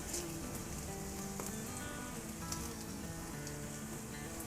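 Shami kebabs frying in hot oil give a steady, dense sizzle with fine crackling pops, close and continuous throughout, with no speech.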